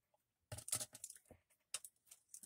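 Blade cutter slicing through a Crystal Light cardboard box against a ruler, a close series of short scraping and crunching cuts in quick bursts with brief quiet gaps.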